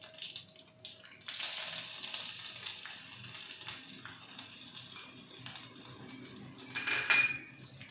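Neem leaves and crushed ginger frying in hot oil for mutton pickle: a sudden loud sizzle breaks out and keeps crackling steadily, ending in a burst of clatter from the pan and spoon.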